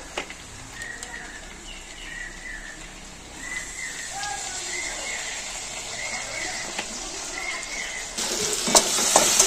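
Chili soybean chunks sizzle steadily in a hot pan while being stirred, a close, continuous frying hiss with scraping of the spatula, growing louder and busier toward the end.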